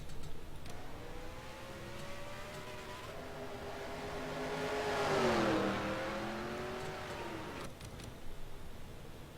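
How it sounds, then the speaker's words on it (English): Pace car engines in NASCAR Racing 2003 drone past on the back straight, a steady engine tone that swells toward a peak and fades again, with the pitch bending as the cars pass. "The pace cars on the back straight."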